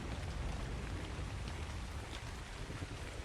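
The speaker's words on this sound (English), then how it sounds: "I like how you can hear the rain," Rain in the video game ARK Survival Ascended falls as a dense, continuous hiss of drops with a low rumbling undertone, steady and fairly soft, with no voices over it.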